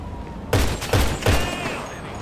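Three rapid, heavy gunshots from an automatic sniper rifle with zoom scope and extended clip in GTA Online, each a sharp boom with a ringing tail, loud and close.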